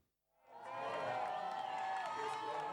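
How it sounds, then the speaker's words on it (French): Supporters of Venezuelan opposition leader Juan Guaido applaud and cheer at a protest, a dense crowd of clapping and shouting rising after a brief quiet start and holding steady and loud throughout. "L'opposant vénézuélien Juan Guaido applaudi par ses partisans."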